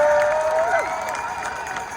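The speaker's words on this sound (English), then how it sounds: "You can do better than that with applause." Outdoor crowd at a Labor Day march rally at Newark City Hall claps and cheers for Phil Murphy, a steady wash of applause with a tonal voice or whistle sliding through early on.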